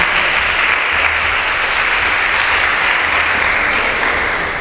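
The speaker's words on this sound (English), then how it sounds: "A round of applause for him." Loud, dense applause from a gathered audience greets Mr. Femi, director of a Nigerian program, holding steady throughout before fading slightly at the close.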